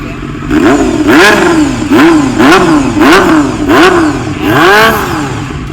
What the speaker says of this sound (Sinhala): කෑන් එක ගහලා තිබ්බත් එන්ජින් එක විසිල් ගහනවා වගේ